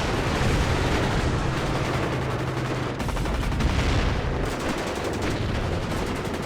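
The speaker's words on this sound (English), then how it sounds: "artillery coming in very accurately to these chieftains." Dense, continuous battlefield gunfire and artillery fire from the Warno real-time strategy war game, a loud unbroken rumble of shots and blasts in an online match, no voices over it.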